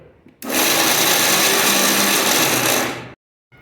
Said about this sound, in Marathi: आपण हे आता मिक्सरला जाडसर वाटून घेणार आहोत